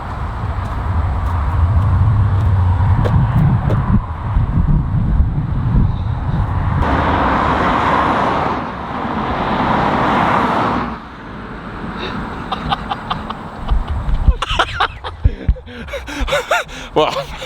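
Cars on a roadside rush past in turn, each swelling into a loud whoosh of engine and tyre noise and then fading. Breathy vocal sounds come and go between them.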